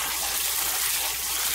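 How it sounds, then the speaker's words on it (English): Dried beans rinsed in a colander under running water, a steady broadband rush of water and gentle swishing, close and continuous without speech. "put your beans in a colander, and swish them around."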